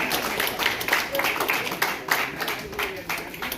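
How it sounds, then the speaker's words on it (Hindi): Applause at a retirement farewell gathering, a moderate patter of clapping from a small crowd running steadily underneath a voice that carries on speaking. "ताली हो जाइए"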